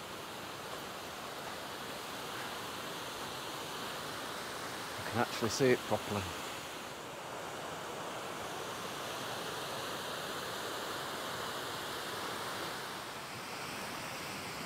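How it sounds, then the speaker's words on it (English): Mountain waterfall on Ben Nevis, a steady broadband rush of fast-running water filling the scene, with a brief spoken remark partway through. "Just coming up to the waterfall now."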